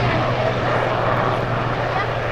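A Sea King Mark 3 helicopter at an airshow gives a steady low droning engine and rotor hum, continuous and fairly loud, with voices mixed in over it.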